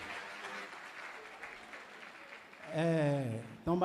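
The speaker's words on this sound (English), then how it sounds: "A round of applause for them," An audience applauds cultural dancers as they leave the stage at a cooperative event, the clapping running under voices before a long, loud drawn-out vocal cry rises near the end.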